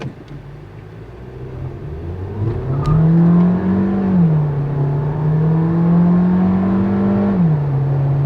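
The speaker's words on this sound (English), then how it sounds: "give the throttle pedal a full kick. Try listening to the engine one more time." A 2022 Skoda Slavia Style with a 1.5 TSI engine and DSG gearbox revs at full throttle: a steady idle hum climbs sharply into a loud, sustained rev, holds, then drops back, with no talking over it.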